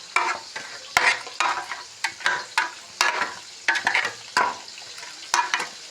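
Bhetki fish is mixed with salt in a bowl by hand, with quick, wet squelching and slapping strokes in an irregular rhythm, close and moderately loud, without talk.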